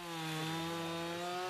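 A chainsaw runs with a steady, strongly pitched engine whine, cutting into a live tree in a forest to carve a nesting hollow for endangered swift parrots; the sound is close and continuous, with no voices.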